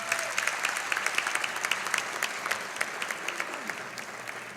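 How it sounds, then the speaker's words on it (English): An audience applauds Mariah Haynes at the Marietta College Hall of Fame event, a steady wash of many hands clapping at moderate level for several seconds, with no talk over it. "give a round of applause for Mariah Haynes"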